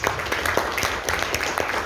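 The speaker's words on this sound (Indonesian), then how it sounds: "Tepuk tangan dong Pak." Brief, scattered clapping from a small audience at a Gold Coin business presentation in Medan, a few hands patting irregularly and fairly close for under two seconds.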